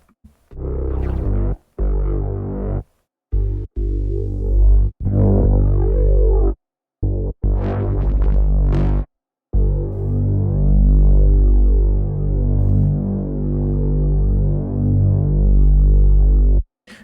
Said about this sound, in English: Let's add a bit of distortion